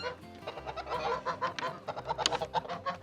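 Several ducks honk and quack in a busy, overlapping chorus near a duck house, close and fairly loud, with no speech.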